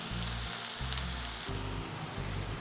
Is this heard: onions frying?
yes